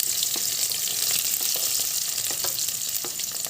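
Onions sizzle steadily in hot oil on a gas stove turned to a low flame, cooking for vegetable chowmein; a constant loud crackling hiss with small pops, no voices.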